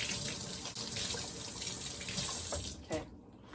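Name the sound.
tap water running to wet cheese cloth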